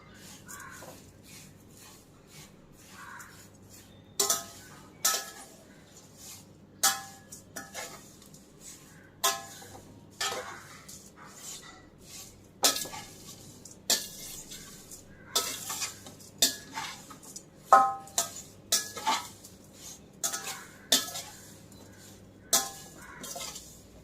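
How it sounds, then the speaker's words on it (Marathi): Thin flattened rice (poha) roasting in a pan over medium heat, stirred with a spatula: repeated sharp scraping and clinking strokes at an irregular rhythm over a soft dry rustle, close and fairly loud against a quiet background. "मी आता हे दुसऱ्यांदा पोहे घातलेले आहेत जे थोडे राहिले होते आपले मीडियम गॅस केलेला आहे पण भाजून घेऊया"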